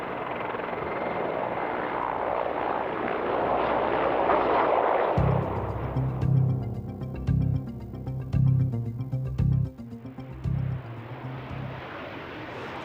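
A SEPECAT Jaguar jet roars loudly overhead at an air show at RAF Fairford in 1995, then the roar gives way to intermittent low rumbling bursts as it moves off in the distance.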